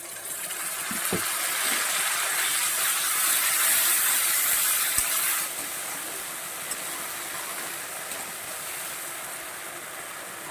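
Steady sizzling hiss of ginger paste frying in a pan, continuous and fairly close, with a few light clinks of utensils.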